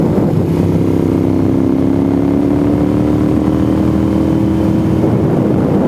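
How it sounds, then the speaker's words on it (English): A Honda Goldwing motorcycle passes on a rural mountain road, a steady, fairly loud engine drone with a gradually rising pitch throughout, heard alone with no talk. "Hey, there's Roland on his Goldwing"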